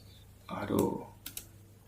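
Computer keyboard keys tapped for a copy shortcut, a couple of quick close clicks following a short burst of a voice talking.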